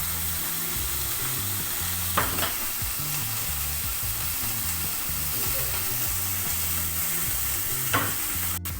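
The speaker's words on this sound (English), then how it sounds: "Then we'll add turkey, a slice of turkey breast. Okay. I will add 3 chopped garlic," A slice of turkey breast and chopped garlic fry in olive oil in a pan, with a continuous close sizzle, repeated scraping as the food is stirred and a couple of sharper utensil clicks.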